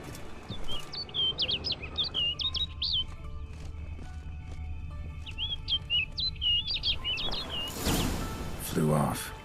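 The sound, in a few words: bird chirping in video game Witcher 3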